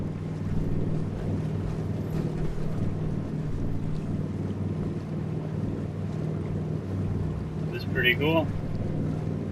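A boat heading to Far Harbor in Fallout 4 moves steadily through the water with a constant low engine drone and wind noise, while a person speaks over it and a brief chirp sounds near the end.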